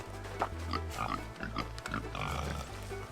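Pigs grunt and oink on a farm in a pig area, with several short close grunts in an irregular rhythm over a steady low hum.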